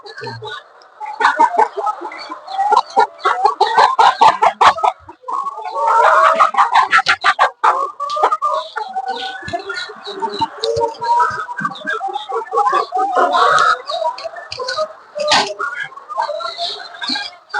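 BV-380 chickens on a poultry farm cluck and squawk continuously nearby, a busy flock with overlapping calls and occasional louder cackles throughout.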